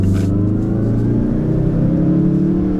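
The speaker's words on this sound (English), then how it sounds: "You can hear the turbo spooling from the inside, so it gives you that sense of power." The turbocharged engine of a 2016 Mazda CX-9 Grand Touring spools up, heard from inside the cabin as a loud, steady whir that builds with acceleration, with no talking.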